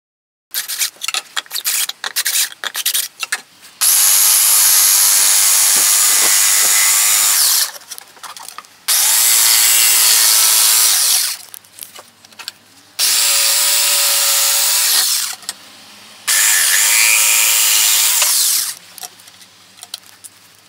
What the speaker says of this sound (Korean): 이 멀티 패널 구멍 뚫을 때는 이렇게 네모나게 뚫어도 돼요